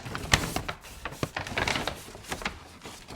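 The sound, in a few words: cutting a bag open with scissors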